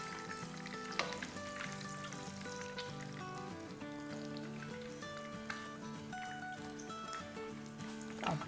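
Kebab bread rolls frying in a pan of hot oil, giving a steady, close sizzle with soft crackles and faint stirring clinks throughout, with no talk.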